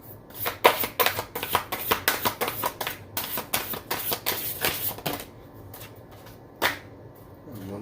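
Oracle cards being shuffled for a tarot-style reading make a quick series of crisp, papery riffles and slaps, close and fairly soft, in an uneven rhythm with short gaps.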